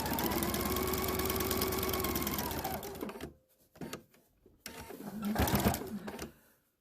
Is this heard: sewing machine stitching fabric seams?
yes